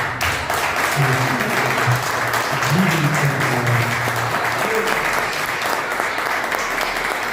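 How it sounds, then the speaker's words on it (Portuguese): Church congregation applauding Jesus, loud continuous clapping with voices of a few people talking or calling out beneath it during the first few seconds. "Vamos aplaudir o Senhor Jesus."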